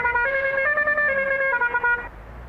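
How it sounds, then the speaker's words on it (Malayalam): A bus horn in the video game Bus Simulator Indonesia sounds as one long, reedy honk lasting about two seconds, wavering slightly in pitch before cutting off. "ഇതെന്ത് ഹോണാ? അയ്യേ, ഇത് ഹോൺ ഒട്ടും പോരാ."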